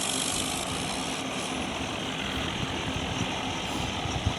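A John Deere tractor engine runs steadily while being put into reverse gear, a continuous loud low idling rumble with no speech over it.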